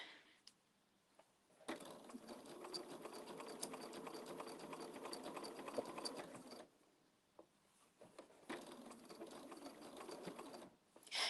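A sewing machine runs in two long, steady stitching stretches of rapid, even whirring and clatter, close but fairly quiet, with brief pauses and single taps between runs and no talking.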